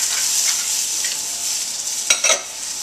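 PEI mussels sizzle in a pan with garlic and chili flakes, a steady loud hiss with a few sharp crackles and pops near the end, no voices.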